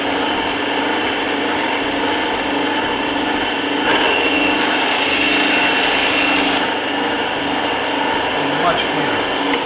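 A bandsaw running at a higher speed cuts through foam, giving a continuous loud whirring drone with a brighter, rougher band in the middle of the cut.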